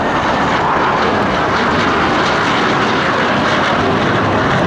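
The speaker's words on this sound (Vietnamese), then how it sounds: "Hai chiếc xô đang bật tăng lực" Su-30MK2 fighter jets flying over Hanoi with afterburners lit, a loud, continuous broadband roar that stays strong and steady throughout, with no voices.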